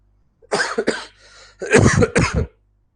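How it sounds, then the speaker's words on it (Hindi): Two bursts of harsh, throaty coughing from a lingering cough, close to the mic, with a brief quieter rasp between them; no talking. "ये खांसी नहीं जा रही है"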